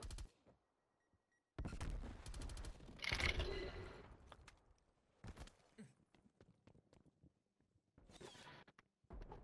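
Gunfire from Call of Duty Cold War comes in several sharp, close bursts separated by quiet gaps, with one denser volley in the middle and fainter shots scattered between.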